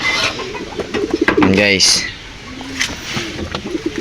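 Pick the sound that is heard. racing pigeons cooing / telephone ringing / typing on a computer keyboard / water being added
racing pigeons cooing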